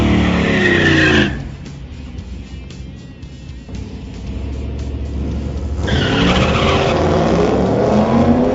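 A loud burnout by a 1995 Pontiac Trans Am V8 with transmission in performance mode: engine roaring with tires squealing, dipping briefly to a rough idle before the screeching tire spin surges back up.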